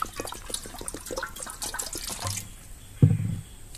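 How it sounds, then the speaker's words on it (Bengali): Water is poured into a wok over a fire to heat for making chitoi pitha, with a continuous splashing trickle that stops, followed by a brief low thump. "কড়াইতে পানি দিয়ে দিচ্ছি।"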